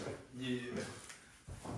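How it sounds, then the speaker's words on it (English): A kitchen drawer slides open and then shut during a crêpes Suzette cooking session: a short scraping rumble, a pause and a second thud, heard close and under people talking. "I'll just put these all in the same drawer"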